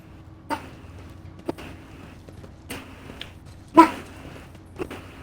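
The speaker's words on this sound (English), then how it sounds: "A loud bark." A loud dog bark sound effect from the video game Rogue Trader rings out as a few sharp, separate bursts spread over several seconds, with one especially strong hit near the end.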